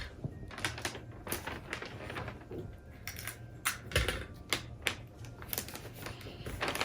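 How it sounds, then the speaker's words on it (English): Clear tape is pulled and pressed down to seal the folded top of a gift wrapping bag, giving quiet, crackly bursts of peeling and tapping in an irregular rhythm close by. "what I usually like to do is just put a little tape to secure it down"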